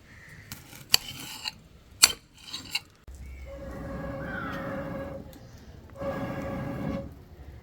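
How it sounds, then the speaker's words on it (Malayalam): A knife cutting garlic, ginger and green chillies in a kitchen: a few sharp taps against a board come first, followed by softer scraping and clinking of utensils, close and fairly quiet. "വെളുത്തുള്ളി ഇഞ്ചിയും പച്ചമുളകും ഒന്ന് അരിഞ്ഞെടുക്കാം"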